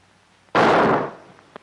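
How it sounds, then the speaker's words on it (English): A single sharp, loud blast of gunfire or cannon in a 1934 film, bursting suddenly and decaying over about half a second into quiet, followed by a faint click. "Gunfire! Cannons! It's revolution!"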